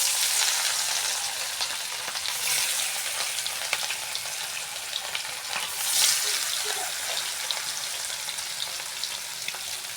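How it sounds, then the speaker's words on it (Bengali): Pieces of catla fish rubbed with salt and turmeric fry in hot oil, giving a loud, continuous bright sizzle with crackling spatter and brief swells, heard alone with no talking. "এবার মাছগুলোকে ভেজে নেব।"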